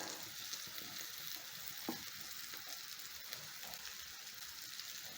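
Fish fry in hot oil, a steady, faint sizzle and crackle that runs unbroken throughout with small pops.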